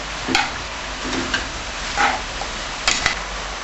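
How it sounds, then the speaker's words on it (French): A spoon stirs sweet pumpkin and carrot soup with sugar in a pot, giving a few intermittent scraping strokes over a soft, continuous simmering hiss. "Mélangez le tout soigneusement."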